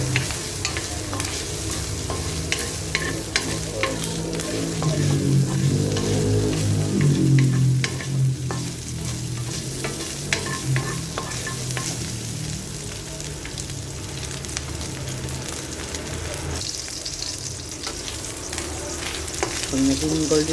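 Pork meat sizzling in a little oil in a pan, cooked until golden brown, with steady frying crackle and occasional stirring scrapes throughout, loud and close with no talking.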